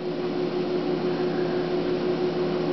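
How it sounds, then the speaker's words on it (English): A large, powerful variable-speed belt sander, about 14.5 by 48 inches, runs steadily with a constant motor whine and broadband whir, close and loud, no voices. "belt sander, a large one."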